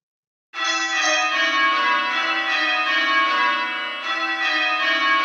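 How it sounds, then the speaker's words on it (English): After a moment of silence, church bells begin ringing in rapid succession, their overlapping metallic tones forming a dense, continuous peal. "they are ringing very, very, very fast now"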